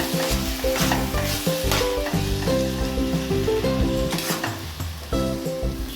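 Greens with whole poppy seeds frying in a pan, a loud close sizzle under steady scraping and stirring strokes, with a sustained harmonic tone ringing over it, no talking.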